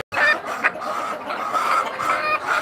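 Laying hens on an egg farm cluck and chatter close by, several birds calling over one another in a busy, continuous flock murmur after a brief silent start.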